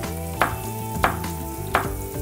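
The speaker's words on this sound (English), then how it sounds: "we're gonna put this in the pan, fat side down, and sear it on all sides" Beef seared fat side down in a hot pan, a steady sizzle with three sharp knife-like chops or thuds at regular intervals over a low background hum.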